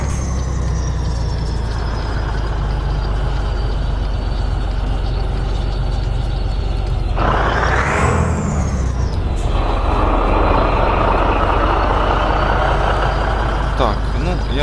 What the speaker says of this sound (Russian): Вот такой вот звук двигателя с открытым окошком.